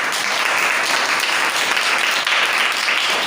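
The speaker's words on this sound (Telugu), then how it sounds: "చప్పట్లు కొట్టుకుందాం" A church congregation claps together in sustained, dense, loud applause that holds steady throughout with no break, and no voices stand out above it.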